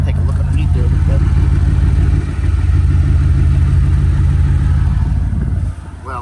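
A Ford Mustang sits idling at a rainy auction yard while warming up, its steady low engine rumble continuing for several seconds with a brief dip partway through and a quieter patch near the end.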